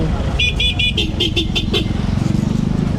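Congested street traffic in Divisoria, Manila, where vehicles cannot get through: engines rumble close by while a horn toots in a quick series of short beeps, with a voice talking over the noise.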